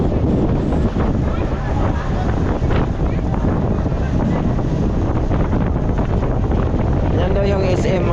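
Strong wind roars and buffets the microphone throughout, a dense, steady rush with faint voices underneath, heard on a trip in Cebu.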